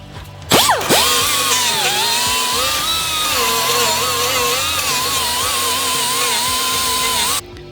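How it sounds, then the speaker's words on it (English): A power drill bores out spot welds on the rusty body of a 1976 BMW 2002, its loud, close, high-pitched whine wavering under load for about seven seconds before stopping abruptly. "Time to drill out the spot welds."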